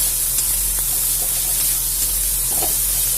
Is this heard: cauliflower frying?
yes